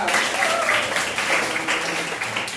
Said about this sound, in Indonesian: beri tepuk tangan Raja